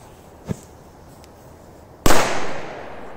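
Double Korsar 4 firecracker going off with one sharp, loud bang followed by a brief rumbling tail outdoors, after a faint earlier pop in the distance.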